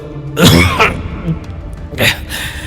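A man gives two rough, breathy coughs, close and fairly loud, about a second and a half apart, with quieter throat noises between them.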